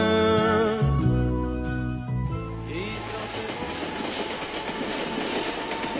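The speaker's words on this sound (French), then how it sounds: "Ici, pas de métro, mais le train." A train rolls past allotment vegetable gardens beside a motorway, starting with a tonal horn-like rumble and then giving way to a loud, steady clatter and roar of wagons passing close by.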